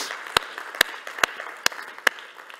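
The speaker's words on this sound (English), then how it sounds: "please give a big applause to our panel here for this last session" Sparse, evenly spaced hand claps, about five distinct sharp claps ringing out in a conference hall after a panel session at a leaders' forum, thin rather than a full crowd.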